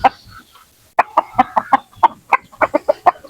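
Native chickens clucking close by in short, sharp bursts after a brief pause, a quick irregular run of about a dozen loud clucks with no talking over them.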